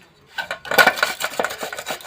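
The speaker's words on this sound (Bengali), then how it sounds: "এখানে একটা গ্রেটার নিয়েছি, এবারে আলুটা আমি গ্রেট করে দেব।" A new potato is rubbed against a metal grater, a run of quick rasping strokes in uneven rhythm, close and fairly loud after a short silent start.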